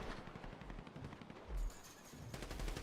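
Gunfire in the GTA video game, an online event match: bursts of rapid automatic shots crackle fairly quietly throughout, with a louder blast near the middle and more rattling fire toward the end, no talking.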